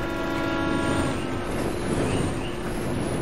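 A train rolls along the tracks in the video game Resident Evil 6, set in China, with a steady rumbling drone and a faint tonal hum, moderately loud and continuous.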